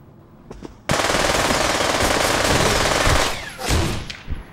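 Rapid automatic gunfire in the VR shooter Pavlov VR during a gun game match, a loud sustained burst lasting about two and a half seconds followed by a few scattered shots.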